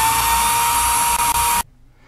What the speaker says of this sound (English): when I was drilling with a hand drill